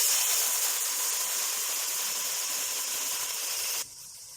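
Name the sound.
water added to frying onions and spices, sizzling and steaming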